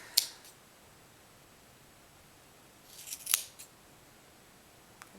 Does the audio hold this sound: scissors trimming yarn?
yes